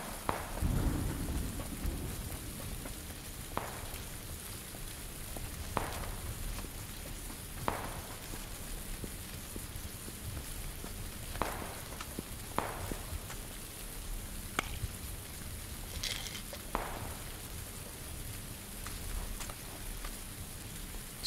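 Steady rain falls across a map in the battle royale game PUBG, a constant hiss with scattered sharper drops and occasional faint rumbles, heard alone without talk.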